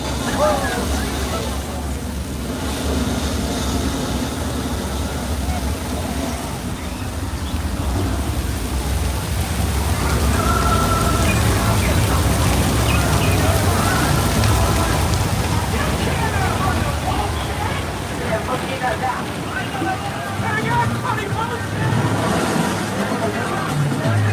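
Simulated rain and a flash flood pour down on the Universal Studios tour, a loud, steady rush of water with splashing and rumbling, while people talk over it.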